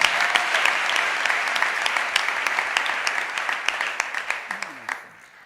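A church congregation applauds together in sustained, dense clapping that carries on steadily and fades out near the end, with a few individual claps standing out.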